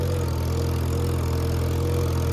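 A steady low engine drone from an old Farmall 140 tractor chisel plowing, running continuously and evenly with a constant hum and no voices.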